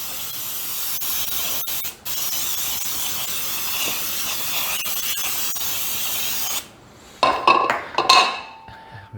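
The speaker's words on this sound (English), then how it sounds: "And I'm gonna spray my bundt pan." A steady aerosol hiss of cooking spray coating a bundt pan runs for several seconds and stops abruptly, followed by a few metallic clinks and rattles of the pan.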